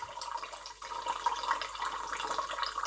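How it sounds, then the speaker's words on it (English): A steady stream of water, about one cup, runs and splashes into a pot for cooking rice, a continuous hissing pour with no talking. "And then I'm going to add the water."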